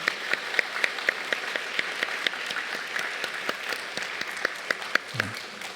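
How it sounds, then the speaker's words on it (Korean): A church congregation gives sustained applause of many overlapping claps that holds steady for several seconds, with a low thump near the end and no voices. "감사와 격려의 박수 하도록 하겠습니다"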